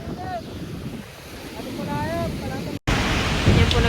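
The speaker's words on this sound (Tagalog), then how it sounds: "Masyado po malakas yung alon ngayon." Loud, steady wash of surf and wind fills the recording, with gusting wind buffeting the microphone and occasional voices faintly heard underneath.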